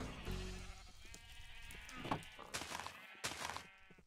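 Sheep bleat several times in a farm video game, a cluster of wavering calls over steady background game sound, with one louder bleat near the end.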